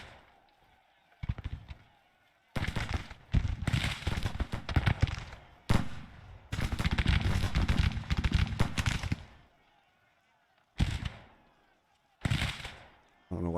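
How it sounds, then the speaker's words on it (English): Troops open fire in the Civil War strategy game Grand Tactician, with bursts of crackling musket volleys in several separated salvos, loud and dense, broken by quieter gaps where someone talks. "Let's halt and start shooting, guys."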